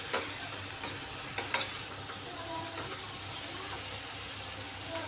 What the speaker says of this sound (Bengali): আরও কিছুক্ষণ এইভাবে নাড়াচাড়া করে নিচ্ছি। মশলাটা অনেক শুকিয়ে গেছে।